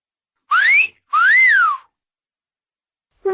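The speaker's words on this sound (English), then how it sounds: "Whistle!" Someone whistling two short gliding notes that rise and fall, clear and close, with a pause between them and no talking.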